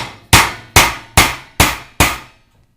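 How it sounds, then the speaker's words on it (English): A hammer drives a nail to make a starter hole, five sharp, loud strikes spaced evenly about half a second apart, each one ringing out briefly before the next, with no talking. "So we're going to put a little starter hole with a nail"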